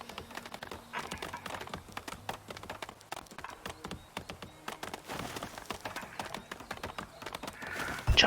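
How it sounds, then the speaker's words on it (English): Wood chopping in the video game Farthest Frontier, rapid irregular knocking strikes that resemble clip-clopping hooves, quiet and continuous with a louder burst at the end. "It sounds like horses, but it's just them chopping."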